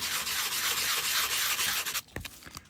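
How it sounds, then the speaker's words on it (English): A sanding block is rubbed back and forth across a paper tag coloured with alcohol ink, giving a steady close scratchy buffing for about two seconds, then a few light taps and handling sounds. "you can see I'm holding my sanding block"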